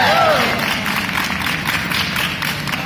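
An audience at a Covent Garden street performance applauds in a dense, continuous burst of clapping, close and fairly loud, with voices mixed in.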